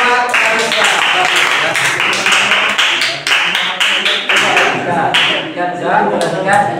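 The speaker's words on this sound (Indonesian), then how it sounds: "Tepuk tangan buat Clarissa" Classroom applause for a student named Clarissa, bursts of fairly loud clapping from a group of students, uneven and near, with some talk mixed in.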